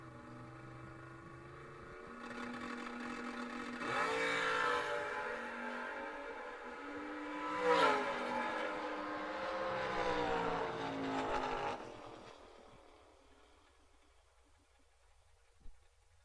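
A drag racing car launching out of the right lane at South Side Dragway, a distant engine roar that rises and pulls away down the strip, swelling over several seconds before fading, with no talk over it.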